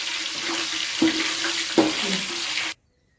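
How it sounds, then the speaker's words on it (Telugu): Curry leaves frying in a pan, a steady close sizzle with two brief stirring clatters, cutting off abruptly to silence near the end. "దీని తర్వాత మనం కరివేపాకు వేసుకొని వేపించాలి"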